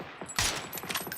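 Rapid gunfire in the video game Far Far West: a loud, sharp burst followed by a quick run of several shots, close and punchy, with no talk over it.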